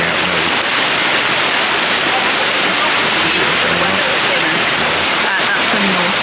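Water spraying from a fountain shaped as a horse, pouring out through its nose, a loud steady rushing hiss throughout with no pauses.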